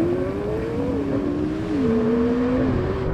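Porsche 911 Turbo S and McLaren 720S launching off the line in a drag race, a loud sustained engine roar with rising and shifting pitch, heard steadily from close up with no talking.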